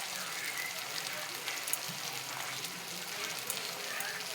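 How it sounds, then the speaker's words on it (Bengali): Tomato and onion fry together in a pan with a pinch of salt, giving a steady, close, broadband sizzle that holds evenly throughout with small crackles. "টমেটোটা পেঁয়াজের সঙ্গে ভালো করে ভাজা করে নেব।"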